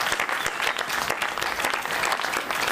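An audience at the Sipario d'Oro 2019 awards ceremony applauds a satirical blogger from Agrigento, a dense, steady wash of many clapping hands sustained evenly throughout with no voices rising above it.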